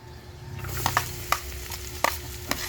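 Ginger frying in butter in a pan, with a soft continuous sizzle and several sharp spoon or spatula clicks against the pan as it is stirred.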